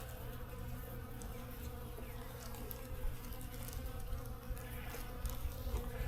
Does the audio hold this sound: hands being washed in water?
no